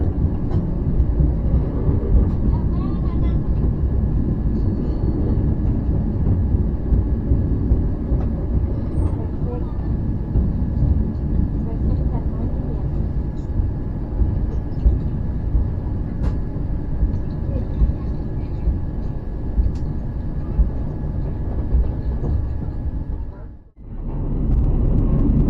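Passenger train running and pulling into a station in Indonesia, heard from inside as a steady loud rumble and rolling roar that continues for over twenty seconds, briefly dipping near the end before resuming.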